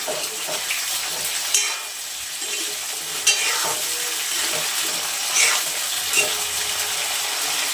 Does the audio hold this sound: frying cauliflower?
yes